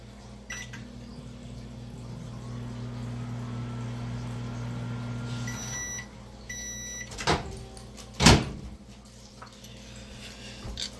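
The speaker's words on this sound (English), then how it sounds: "Put it in the microwave." A microwave oven runs with a steady low electrical hum for several seconds, then stops; its door clunks open with a sharp bang and a few clicks and rattles follow.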